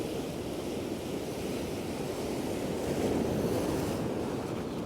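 Sea waves roll and break below the eroding Happisburgh cliffs, a steady, full wash of surf mixed with gusty wind buffeting the microphone.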